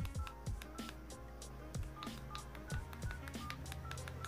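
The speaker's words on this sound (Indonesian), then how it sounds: "Coba dites buat ketik nomor." Keypad dialing tones from a Brandcode Cytrus flip phone: a quick, regular series of short electronic beeps, one per key press, quiet and close.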